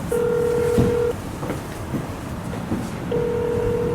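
A telephone ringback tone sounds for an unanswered call. There are two long steady beeps with a pause between them, heard against background hum inside what seems to be a vehicle.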